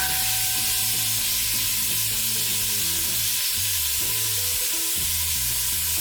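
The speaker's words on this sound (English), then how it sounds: "I feel like I can actually stir a little better." Sausage for gumbo frying in a pot, a steady loud sizzle throughout with clunks and scrapes as a utensil stirs the browning pieces, close and continuous with no talking.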